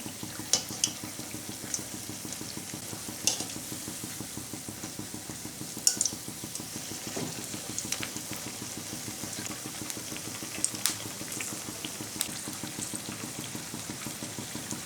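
Okra chops frying in oil, with a faint, continuous bubbling sizzle broken by occasional light clinks and scrapes of a utensil in the pan.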